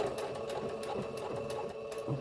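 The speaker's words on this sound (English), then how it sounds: "let me backstitch that real good" A sewing machine runs steadily while backstitching a curved seam on a twist turban cap, its needle chattering in a fast even rhythm, close and alone.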